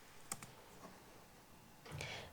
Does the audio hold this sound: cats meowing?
no